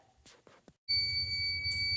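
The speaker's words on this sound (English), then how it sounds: "once the timer sets off and it's ready to open up, I'll be right back" A sublimation heat press timer lets out a steady, continuous high-pitched beep that sounds close and alone over a low hum, following a few soft handling noises.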